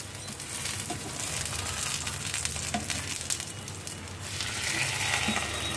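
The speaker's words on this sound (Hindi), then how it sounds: "अब हम इसे लगभग लो टू मीडियम फ्लेम में 5 मिनट के लिए ऐसे सिकने देंगे हल्के से।" Potato pizza base frying in oil in a pan over low to medium flame, a steady close crackling sizzle with small pops and a few soft scraping touches.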